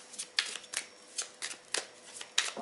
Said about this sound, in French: Donc je vais mélanger le jeu